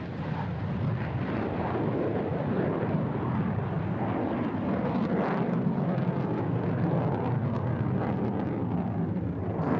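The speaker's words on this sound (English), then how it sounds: "The F-16 is a fantastic aircraft for air demonstrations." A USAF Thunderbirds F-16 fighter jet roars overhead at an air show, its loud, continuous broadband engine rumble sustained throughout with no talk.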